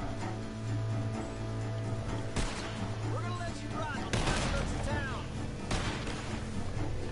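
Gunfire in Red Dead Redemption 2, several sharp shots and bursts scattered across the stretch, mixed with a voice talking and other game sounds.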